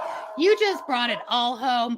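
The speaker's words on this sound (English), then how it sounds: "sorry about my dogs" Small dogs yapping and barking in a home setting, several close sharp barks and whines mixed with a person talking over them.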